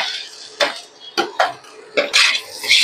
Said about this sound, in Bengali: পেঁয়াজটা ভাজা হয়ে গেছে, গোল্ডেন কালার এসে গেছে, তো আমি এবার এর সঙ্গে ডিমটা যোগ করব।